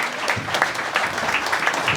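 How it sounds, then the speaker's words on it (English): Dense, steady applause from a concert audience greeting a singer at a commemorative concert, close and continuous with no voices over it. "Give him a nice round of applause."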